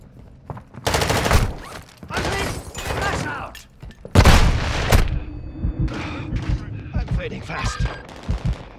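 Gunfire in a shooter video game: loud, close bursts of rapid automatic fire and heavy booms, broken by short pauses.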